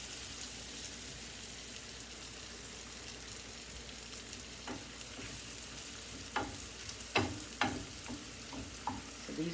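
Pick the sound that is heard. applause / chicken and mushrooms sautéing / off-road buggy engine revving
chicken and mushrooms sautéing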